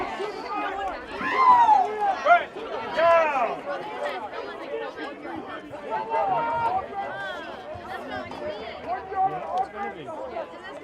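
Crowd noise at an evening football game at Kelleher in Marlborough, Massachusetts, a steady murmur of spectators with scattered cheers and shouts, heard under continuous talk.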